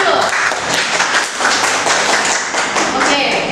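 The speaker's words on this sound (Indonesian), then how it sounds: "Terima kasih adik, tepuk tangan dulu" Students in a university microteaching class clap together, producing a brisk, close burst of overlapping hand claps that continues evenly for a few seconds.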